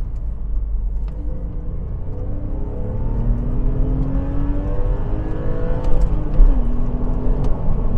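Porsche 997.1 Targa 4 with a manual gearbox pulling hard from inside the cabin, engine note climbing steadily with a gear change near the end over road rumble.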